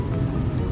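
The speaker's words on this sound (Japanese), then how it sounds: "あいにくの雨でですね" Steady, dense rain falls on a wet October morning in Japan, a continuous hiss close by with no voice over it.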